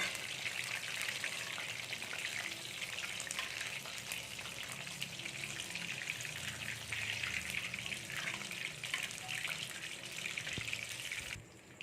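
Chicken lollipops deep frying in a pan of oil make a dense, continuous crackling sizzle at an even level, cutting off sharply just before the end.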